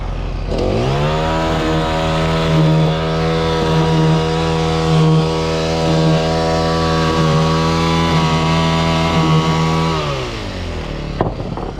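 A petrol concrete vibrator runs while concrete is poured for a sloped ring beam, its small engine spooling up, holding a steady loud buzzing drone with slight wavers, then winding down.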